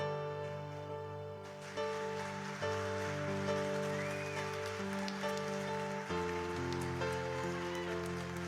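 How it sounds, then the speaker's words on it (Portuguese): Steady rain falls with a continuous soft patter and hiss, mixed beneath sustained, chord-like music that shifts a few times and stays fairly loud throughout. "Ouça o barulho da chuva."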